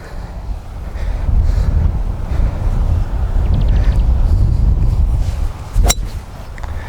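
Wind buffeting the microphone on a golf course, a loud, continuous low rumble with gusts swelling and easing throughout and a brief sharp knock near the end.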